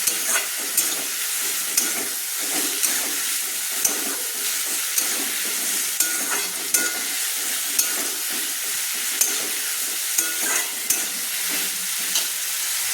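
Banana flower being stirred with ginger and garlic in a hot pan, with a steady close sizzle broken by regular scraping taps of the spatula throughout, and no voices.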